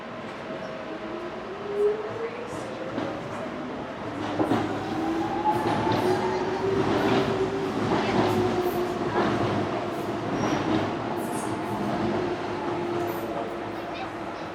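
A Docklands Light Railway train runs at Westferry station, with rail clatter and rising and falling motor whine close by, plus wheel squeal and rhythmic clicks over the steady rolling noise.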